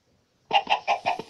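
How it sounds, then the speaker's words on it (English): A chicken in the Minecraft video game clucks in a quick series of four or five short, close, fairly loud clucks after a brief silence. "Move, chicken, before I hit you."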